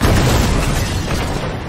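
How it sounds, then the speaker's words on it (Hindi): A rocket launcher blast in GTA 5 booms loudly and close, a single deep rumbling explosion that decays over a couple of seconds. "Rocket launcher? Is it a rocket launcher?"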